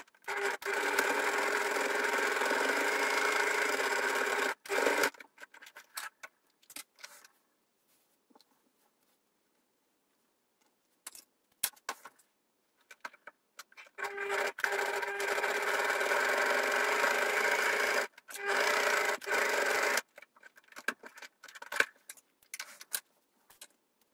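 A sewing machine top stitches a fabric bag pocket in two long steady runs, with a pause of quiet handling and small clicks between them, close and clear with no talking.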